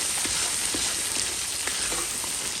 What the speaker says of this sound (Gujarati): ફ્રાય કરવાની છે એકદમ ગોલ્ડન બ્રાઉન કરી નાખવાની ડુંગળી